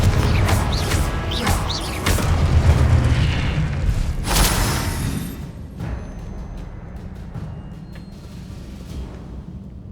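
Confringo blasting spell explosions in the Hogwarts Legacy video game: a loud, dense run of booms and crashes with sharp bursts, peaking mid-way, then fading to a rumbling tail with scattered thuds.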